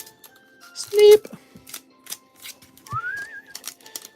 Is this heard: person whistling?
yes